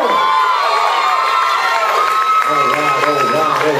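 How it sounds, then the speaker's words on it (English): A crowd at a bodybuilding pose-down cheers and shouts loudly, a dense wall of whoops and yells with individual voices rising above it. "give one more cheer, come on!"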